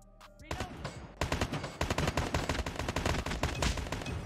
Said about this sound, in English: I'm like tap firing at this point